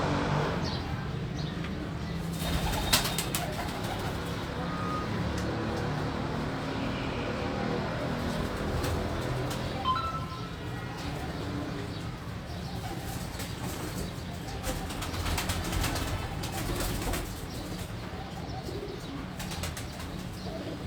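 Pigeons in a home loft, with soft cooing and occasional bursts of wing flapping over a steady low background hum, fairly faint and close, with a distant car now and then.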